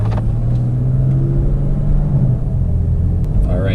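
A tuned BMW M4 with the S55 engine and anti-lag rumbles loud and close from inside as it pulls away, a deep steady engine drone with a few faint pops near the end.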